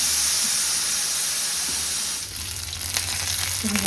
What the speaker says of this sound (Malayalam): അപ്പോൾ അതിക്ക് നമ്മളെ ഉള്ളിയാണ് മൂപ്പിച്ചെടുക്കുക